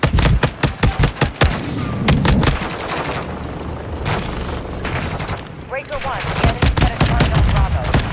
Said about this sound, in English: Minigun! Nice.